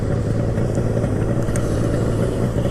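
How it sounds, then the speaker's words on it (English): A Kawasaki H2 750 motorcycle idles steadily up close, its engine a dense, continuous low rumble with a constant rough texture and no change in revs. "The bike's very happy idling."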